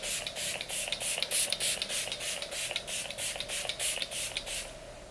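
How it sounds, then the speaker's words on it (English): Tarte Stay Spray setting spray releases a fine mist in a quick series of short, evenly spaced pumps, close and crisp, each hiss brief and airy. "And this is the Tarte Stay Spray."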